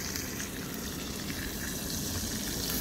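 A ribeye steak sears in a hot pan with a steady, dense sizzle, close and fairly loud, running continuously without any voices.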